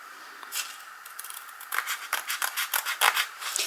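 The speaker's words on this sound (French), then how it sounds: "Et je vais découper le surplus." Scissors snip through excess canvas in a quick series of close, crisp cuts, the blades rasping in an irregular rhythm with no talking.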